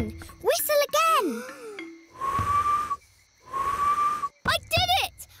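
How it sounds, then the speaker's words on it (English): Two sustained, clear whistled notes sound from a cartoon lion show, each lasting about a second, separated and framed by animated character voices speaking excitedly. "You're whistling! I whistled! Whistle again!"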